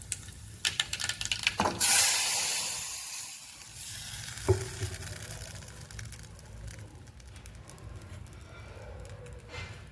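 Asafoetida dropped into hot oil for methi na gota batter makes a sharp burst of sizzling and hiss, followed by steady softer frying crackle with scattered clicks of a spoon, close by.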